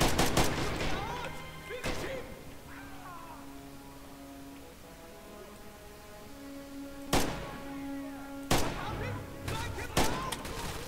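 Bursts of rifle and machine-gun fire in the WWII shooter Red Orchestra 2, sharp loud cracks at the start and again in a rapid cluster near the end, with quieter battlefield tones between.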